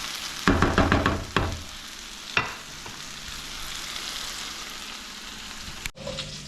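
Beef sautéing in a pan for calderetang baka, browning golden: a constant sizzle with rapid scraping stirs early on and a few utensil knocks, close and loud, no voices.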